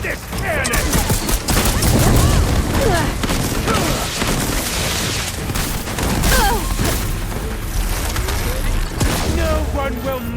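A cannon fires in Horizon Forbidden West amid dense, loud battle noise, with repeated booming blasts and rattling bursts sustained throughout and a voice shouting at times.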